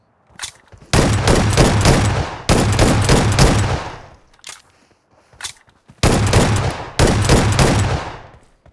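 Shotgun fire in the mobile game BGMI, with loud, close bursts of rapid shots in several long volleys separated by short gaps and single shots.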